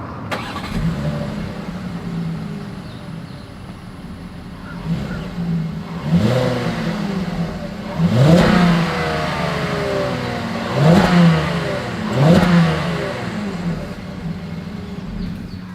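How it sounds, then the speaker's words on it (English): A 2021 Volkswagen Atlas exhaust at close range, the engine idling low then blipped in five or so short sharp revs that rise and fall, spaced a couple of seconds apart. "As always, here is that exhaust clip."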